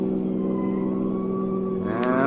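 Steady car engine drone with a smooth rising whine and a brief passing swoosh near the end, staged as a car speeding past a parked police car in an old-time radio crime drama.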